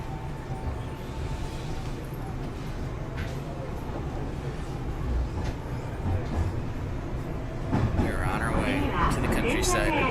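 A train rides along the tracks in Osaka, a steady low rumble and rattle from inside the carriage that swells toward the end.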